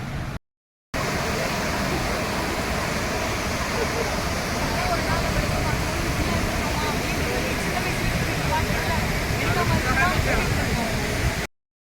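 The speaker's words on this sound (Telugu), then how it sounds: "ఇదిగోండి పయాగర వాటర్ ఫాల్స్ ఇలా లైట్గా ఫ్లో అవుతున్నాయి అన్నమాట" Steady broadband roar of Pykara Falls in Ooty, Tamil Nadu, pouring continuously, close and fairly loud, after a brief cut at the start.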